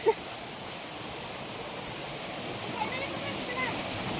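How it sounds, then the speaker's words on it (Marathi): Waterfall near a dam, a steady broadband rush of falling water that holds evenly throughout, with no other clear sounds over it. "धबधबा एकदम मस्त मजा येते."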